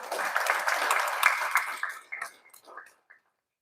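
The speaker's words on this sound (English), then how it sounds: "you would begin by clapping for them." An audience claps at a meeting between Uganda's Chief Justice and the Governor of the Bank of Uganda, a lively burst that thins into scattered individual claps and dies away to silence by the end.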